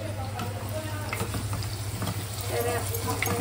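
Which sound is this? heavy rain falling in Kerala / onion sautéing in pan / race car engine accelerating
onion sautéing in pan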